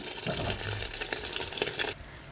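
Hot fat poured little by little into a Dhaka-style Eid meat korma, a close, wet splashing liquid pour running for about two seconds before it stops abruptly, with no talk.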